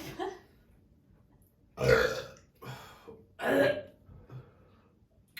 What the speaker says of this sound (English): Oh, the burp.